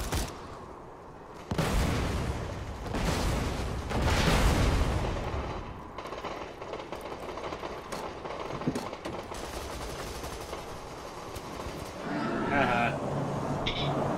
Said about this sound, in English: Where did the explosions come from?